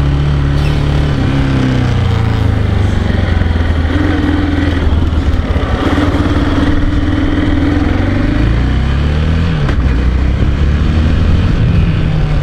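A 2008 Aprilia Pegaso 650 single-cylinder motorcycle gets under way on the road, its loud close engine rising and falling through the gears over constant wind roar.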